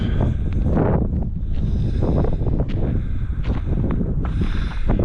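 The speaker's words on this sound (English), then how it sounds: "The wind is picking up." Wind gusting across open grazing land, a loud continuous buffeting roar with rough rustling bursts that swell and ease.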